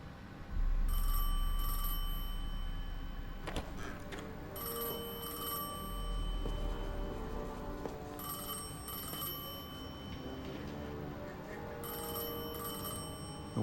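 A telephone ringing inside the video game Destiny 2: The Edge of Fate, with repeated bursts of an electronic bell ring separated by short gaps over a steady low ambient hum and a few clunks, with no talking.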